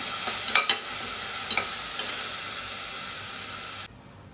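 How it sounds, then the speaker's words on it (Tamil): Whole cinnamon, fennel seeds and cloves sauté in a hot pan for dal rice, giving a steady close sizzle with a few sharp stirring scrapes early on before the sound cuts off. "இது நல்லா பச்சை வாசம் போகிற வரைக்கும் நல்லா வதக்கி விடணுங்க"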